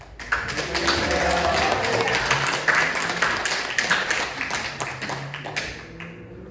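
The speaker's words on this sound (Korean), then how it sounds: "할렐루야로 한번 인사 크게 박수 한번 해주시기 바랍니다" A church congregation applauds loudly as the pastor comes forward, a dense, steady wash of clapping that swells and then slowly thins out near the end.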